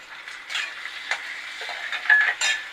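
Chopped onion goes into a pan of hot oil and fries, giving a steady close sizzle broken by a few scraping stirs and clatters, with no voices.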